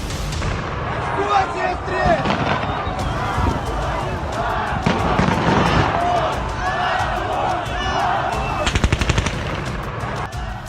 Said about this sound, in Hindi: बीच बीच में सुनाई दे रही गोलियों की तड़तड़ाहट